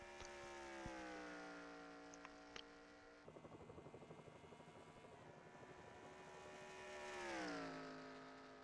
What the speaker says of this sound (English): I don't know why we could hear a helicopter there for a second